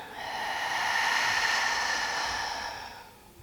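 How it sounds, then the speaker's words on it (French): A long, steady exhale during a guided relaxation breathing exercise, a soft airy hiss that swells and then fades away over a few seconds, close up and alone with no talking. "Et on expire."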